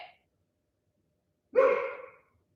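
Dog barking indoors at home, one clipped yelp at the very start and then a single loud, close bark about a second and a half later, with silence between.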